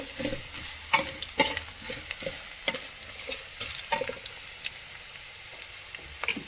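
A spoon stirs a sizzling tempering of garlic for jowar poha in a pan, with soft frying hiss broken by irregular scrapes and knocks against the pan, close up and without talk.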